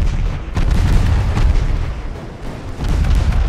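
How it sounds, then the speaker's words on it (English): Warship broadsides thunder in the naval game Ultimate Admiral Dreadnoughts, with heavy overlapping booms and rumbling blasts rolling together into a loud, continuous barrage. "Going between them that list means we can fire both broadsides off at the same time."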